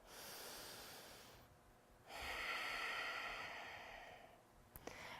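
Slow, deep breathing during a yoga session, a long soft inhale fading into a pause before a fuller, louder breath rises and sustains, close and alone, ending with a brief sharp catch.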